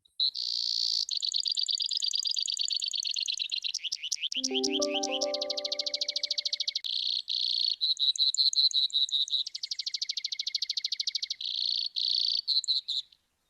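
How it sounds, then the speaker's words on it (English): A Brewer's sparrow's long song of buzzy trills that shift speed and pitch, sounding insect-like and crickety, with a brief lower whistled sound partway through. "So that was Brewer Sparrow's long song, kind of sounds crickety."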